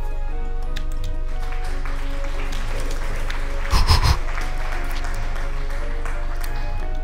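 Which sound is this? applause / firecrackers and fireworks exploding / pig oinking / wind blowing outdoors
applause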